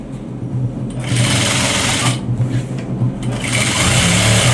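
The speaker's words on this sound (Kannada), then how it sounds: "ಎರಡನ್ನೂ ಸಹಿತ ಅದೇ ರೀತಿ ಸ್ಟಿಚ್ ಮಾಡ್ಕೊಳ್ಳಿ." A sewing machine stitches a school uniform coat, running steadily and loudly for several seconds with a fast mechanical whir and small shifts in speed.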